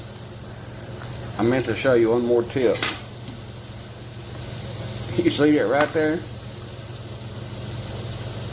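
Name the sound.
kitchen range hood fan running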